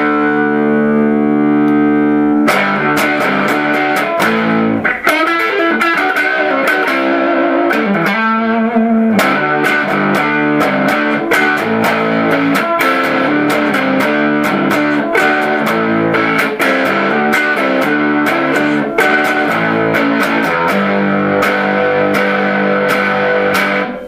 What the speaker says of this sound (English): So you get some nice fuzz tones